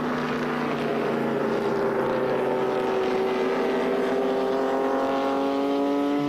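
A race car's big American engine roars steadily in an endurance race, its pitch slowly climbing as it accelerates, with a constant rushing drone and no voices.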